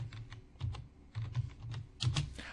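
Keys clatter on a computer keyboard in short bursts of quick strokes with brief pauses, close and fairly quiet, as a command is entered into statistics software; no one speaks.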